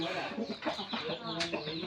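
A large orange-and-yellow rooster at a chicken sale clucks in repeated short bursts, close and fairly loud, with one sharper squawk near the end.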